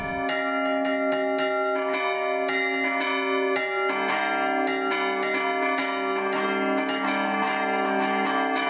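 Church bells in São João del Rei, Brazil, ring in a lively, overlapping pattern, bright metallic strikes repeating rhythmically and ringing out with long sustained tones.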